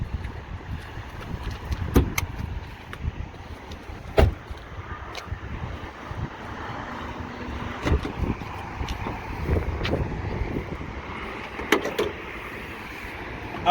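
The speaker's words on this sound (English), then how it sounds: "so we'll go ahead and open that hood." The hood of a 2018 Dodge Challenger T/A 392, with its hood pins already removed, is lifted open: a few sharp latch clicks and thumps stand out over a steady outdoor background, with no talking.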